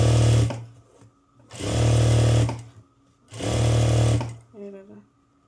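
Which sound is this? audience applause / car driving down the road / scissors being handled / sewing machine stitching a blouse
sewing machine stitching a blouse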